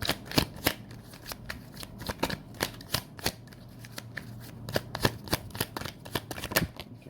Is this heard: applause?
no